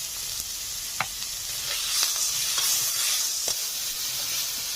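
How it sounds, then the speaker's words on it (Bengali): Ground turmeric, chilli and cumin fry in oil in a pan for a village-style ritha fish curry, a constant sizzle broken by several sharp scrapes of a spatula stirring, close and fairly loud. "মশলা ভালো করে কষিয়ে নেব।"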